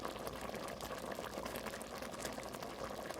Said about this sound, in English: you can hear the bubbling and sizzling up